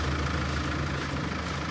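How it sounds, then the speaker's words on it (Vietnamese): A diesel seven-seat car engine idles steadily and evenly, with a constant low rumble and no voices over it. "Cái máy nó nổ rất là êm luôn."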